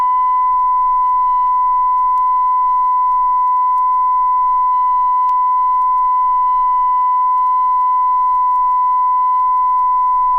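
A steady 1,000-cycle sine test tone at 100% modulation on the left channel of a stereo check record holds unbroken and loud from start to finish, with only a faint low hum beneath it.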